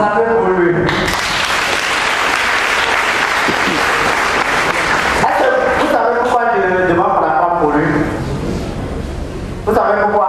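A church congregation in Côte d'Ivoire applauds in a loud, sustained wave of clapping that runs nearly the whole time, with a voice speaking over it.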